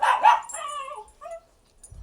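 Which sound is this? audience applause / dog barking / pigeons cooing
dog barking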